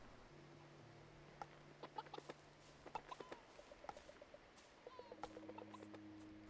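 Quiet, scattered chicken clucks and short squawks in the video game Mutazione over a faint steady hum, irregular and soft, with no one talking.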